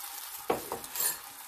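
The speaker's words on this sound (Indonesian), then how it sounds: "goreng telurnya" An egg fries in a pan with a faint, steady sizzle, broken by a couple of light utensil scrapes and clicks.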